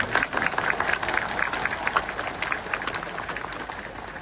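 A large audience at a gathering honoring the army, air force, police and border guards claps steadily for several seconds, a dense, loud wash of applause that fades slightly toward the end.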